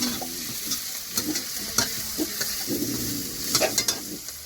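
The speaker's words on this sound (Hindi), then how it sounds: "तो दोस्तों देखिए कुछ आ गया और इधर ये भी फ्राई अच्छा से हो रहा है" Snails (ghoga) frying in a pan, a constant sizzle punctuated by repeated spatula scrapes and clicks from stirring, close and fairly loud.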